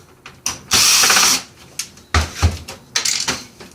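Small screw being unscrewed from the plastic shroud of a desktop computer being broken down for recycling, heard as loud, close bursts of ratcheting mechanical whir, one long run then several short ones.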